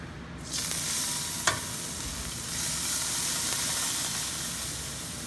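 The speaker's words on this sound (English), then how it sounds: "In our hot pan, we're gonna boil our coconut milk." Coconut milk heats in a hot pan with a steady, close sizzle and hiss, plus a brief clank near the start, and no voices.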